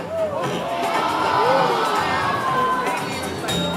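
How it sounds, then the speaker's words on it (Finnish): A crowd at a builders' trade fair shouts and cheers in a continuous loud roar of voices, with a few higher calls rising out of the steady hubbub. "Siinä kuulit, yleisö vaatii."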